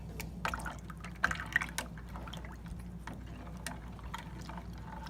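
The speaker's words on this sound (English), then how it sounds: "We're going to stir that around." Yogurt mixture being stirred in an Instant Pot, with wet liquid swishing and light dripping sounds plus a few sharp taps of a utensil against the pot, quiet and close.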